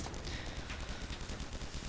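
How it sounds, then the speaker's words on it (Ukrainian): Rapid automatic gunfire in a Roblox D-Day battle game rattles on as a dense, continuous burst of shots, steady and close throughout. "Бачите, як швидко стріляє."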